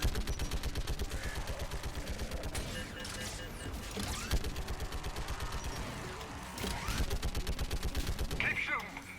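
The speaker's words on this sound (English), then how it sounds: "Might as well make use of this turret" Rapid sustained turret fire in the Mass Effect video game, dense repeating shots pounding steadily throughout with mechanical clatter, loud and continuous.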